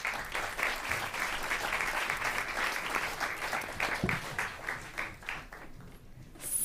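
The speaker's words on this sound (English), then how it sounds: "So let's give them a round of applause." An audience applauds panelists at a climate and agriculture forum, with dense, steady clapping that holds for several seconds and then thins out toward the end.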